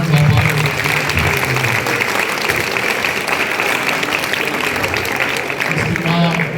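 A crowd applauds the Alashkert dance ensemble from Metsavan inside a Catholic church in Gyumri, with loud, dense, steady clapping filling the hall for several seconds while voices murmur faintly at the start and end.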